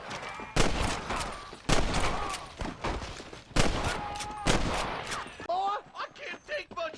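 Repeated loud gunshots in the western video game Red Dead Redemption, a series of sharp cracks and volleys in a shootout alongside a marshal, with voices shouting between shots.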